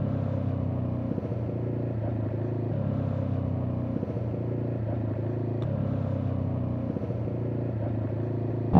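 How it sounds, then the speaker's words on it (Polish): A QJ SRT 125 DX motorcycle idles with its exhaust running, a steady low rumbling burble with a faint mechanical clatter, close and constant throughout. "ale ten wydech nawet takie fajne rasowe brzmienie wydaje, nie spodziewałem się."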